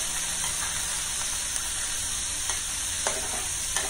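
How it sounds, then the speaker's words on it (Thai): Pork stir-frying with smashed garlic in a pan, a loud constant hiss and sizzle with occasional sharp clicks of a spatula scraping the pan, close up, no talk. "ผัดเนื้อหมูจนกว่าเนื้อหมูจะสุกเนาะค่ะ"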